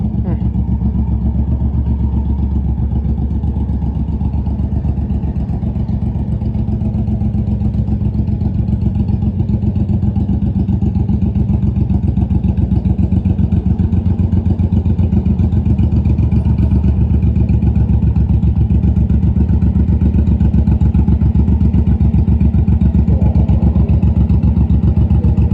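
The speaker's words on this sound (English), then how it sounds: "It's a bully. And look at those exhausts." A Suzuki Boulevard M109 cruiser motorcycle idles steadily through aftermarket exhausts, a deep, loud, even rumble that holds for the whole stretch with slight fluctuations, close to the listener.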